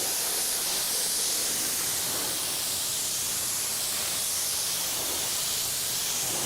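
Continuous close spray hiss from a pressure washer with a 25-degree nozzle blasting bugs from a car's front end, loud and even, with only slight swells in intensity and no voices.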